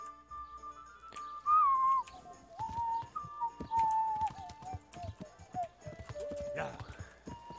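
Horse hooves clip-clopping at a steady pace in the Kingdom Come: Deliverance game, with whistle-like tones and someone talking over the steps throughout.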